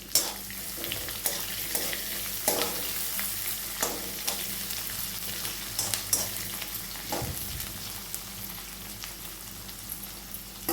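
Tempering for upma sizzles and crackles steadily in hot oil in a pan, with frequent sharp pops and spits throughout, close up and with no voices.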